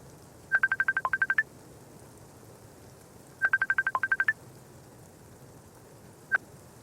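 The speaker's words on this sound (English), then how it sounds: "Oh, I got a phone call." A telephone rings with an incoming call, two bursts of rapid electronic trilling pulses a couple of seconds apart and a brief final chirp, close and clear over a quiet background.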